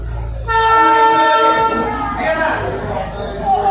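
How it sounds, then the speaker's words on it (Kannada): A toy train horn sounds loud and close at Darjeeling railway station, a long sustained harmonic blast followed by a second, rougher blast over platform rumble, with people talking nearby. "ಬನ್ನಿ ಒಂದು ಟ್ರೈನ್ ಬಂತು, ತೋರಿಸ್ತೀನಿ"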